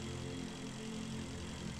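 Spacecraft engines in the game Breathedge hum in a steady, dense, even drone with a low rumble, constant throughout without any voices.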